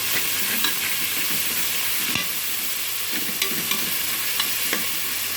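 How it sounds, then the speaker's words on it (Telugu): Tomatoes and mint sizzle in a pan for chicken pulao, a soft continuous frying hiss broken by scraping stirs and occasional light knocks of the spoon against the vessel. "ఇప్పుడు టమాటాలు వేసేస్తాను. టమాటాలు, పుదీనా మొత్తం వేసేసుకుంటాను."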